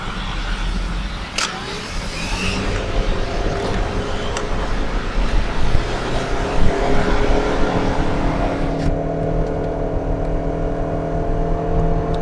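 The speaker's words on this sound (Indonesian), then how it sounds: "Kita masuk tol dulu untuk merasakan bagaimana sensasi kecepatan mobil ini." A 2015 Toyota Camry Hybrid sedan accelerates on a toll road, its engine and road noise forming a steady loud drone heard from inside the cabin, rising gradually with no talking.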